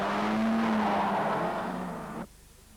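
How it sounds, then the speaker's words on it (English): A Suzuki race car loses control on the straight at Bathurst, its engine roaring loud and close with a strained, sliding tyre squeal before the sound cuts off abruptly. "New South Wales driver Glenn Mason lost control of his car in the main straight, and the result was frightening."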